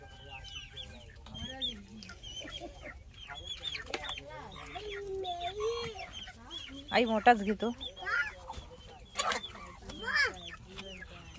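Farmyard chickens clucking close by in rural Maharashtra, a busy scatter of short clucks and calls with occasional louder squawks, while a person speaks briefly among them.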